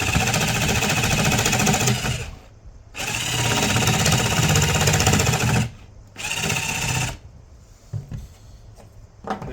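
A power tool trimming wood in a ham radio shack runs loud and steady in two long bursts with short pauses between them, then tails off into quieter rattling cuts.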